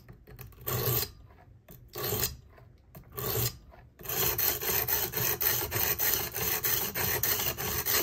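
A knife being sharpened on a 220 grit stone in a Work Sharp Precision Adjust system: close, gritty rasping strokes, first a few separated passes, then rapid, even back-and-forth strokes.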